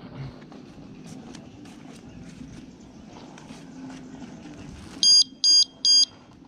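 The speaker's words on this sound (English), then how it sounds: "it does like a 3 beep, and then if you keep messing with it, it does like a 10 or 15 second alarm noise" A motorcycle disc brake alarm gives three loud, sharp electronic beeps in quick succession near the end, following several seconds of quiet handling noise and faint rustling.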